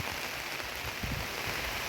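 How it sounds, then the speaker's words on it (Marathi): Steady rain patters in a dense, even hiss in a forest, with a few heavier splatters of drops near the middle; no voices. "बघा आता पाऊस चालू झालेला आहे"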